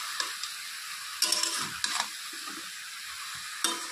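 A pan of fish curry with potato and eggplant in mustard-style oil sizzles steadily while a spoon stirs it, with a few louder scrapes and clinks against the pan spaced through the clip, close up and with no voices.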